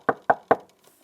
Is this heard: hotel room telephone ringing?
no